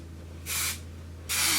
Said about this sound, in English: I'll do a little bit of texture spray first